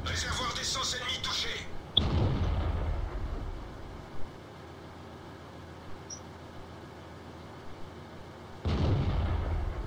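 A tank's main cannon fires in a tank battle video game, a loud, sharp boom followed by a rumbling tail, with another blast near the end and someone talking over the engine and battle noise.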